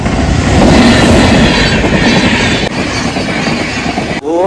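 Close, loud rumble of a train passing a level crossing, with steady clickety-clack wheel noise filling the whole stretch and a brief squeal near the end.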